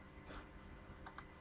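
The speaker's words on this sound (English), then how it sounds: "Click OK." Two quick, crisp computer mouse clicks sound close together near the end, faint and dry against a quiet background with no speech.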